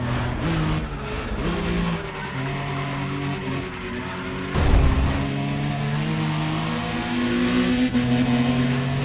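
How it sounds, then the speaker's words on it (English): A Mazda RX-7 engine revs and races in the video game Need for Speed ProStreet, a loud continuous rising and falling engine drone with tire squeal and a thump midway, no talking. "That RX-7 sounds awesome."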